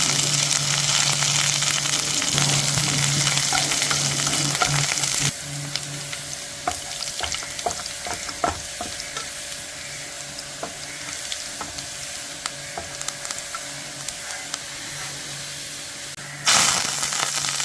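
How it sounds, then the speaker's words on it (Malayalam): Loud, continuous sizzling and crackling of curry leaves frying in hot oil, with occasional utensil clinks and scraping throughout. "കറിവേപ്പില വറുത്ത് കോരി"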